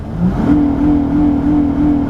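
A 2012 Honda Pilot engine revs hard toward its rev limiter, a steady, loud mid-pitched drone that climbs and then holds with a slight pulsing bounce at the top, heard close and alone.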